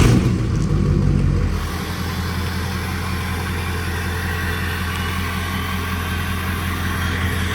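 A turbocharged 5.7L HEMI V8 in a Chrysler 300C rumbles loudly up close, with a brief stronger rev at the start that settles into a steady deep drone, no voices.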